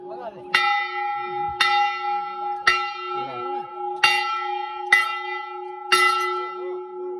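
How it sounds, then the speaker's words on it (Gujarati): A temple bell is struck six times at a steady pace, each ring bright and metallic with a sustained hum carrying between strikes; faint voices underneath. "બધા એમ કે 3 વાર ઘંટી વગાડી એટલે મનોકામના પૂરી થઈ જાય"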